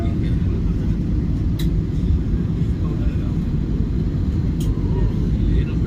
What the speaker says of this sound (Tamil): நம்ம வண்டி இறங்குது, விமானங்கள் நிறைய நிற்குது